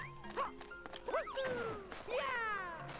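Cat enemies in Super Mario 3D World mewing repeatedly, several rising and falling meows in quick succession, close and clear over light game sounds and a thwack.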